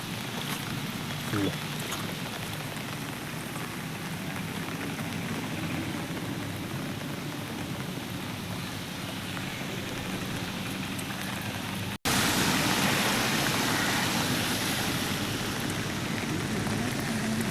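Steady rain pours along the NH 66 service road at Randathani, Malappuram, a continuous hiss of falling water that suddenly grows louder partway through, with faint voices underneath.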